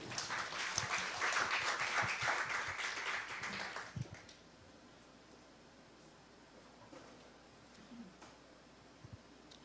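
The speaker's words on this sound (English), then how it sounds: "let us welcome him through the screen with a big round of applause" Moderate audience applause welcoming a speaker at a science camp, a few seconds of scattered clapping that stops abruptly, leaving a quiet room with faint rustling.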